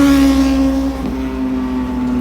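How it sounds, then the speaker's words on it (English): A motorcycle whips past on the opposite side of a newly opened East Coast bypass road, a steady engine drone with a falling pitch as it passes nearby, no talk. "see the motorcycle just whipped past me on the opposite side heading west"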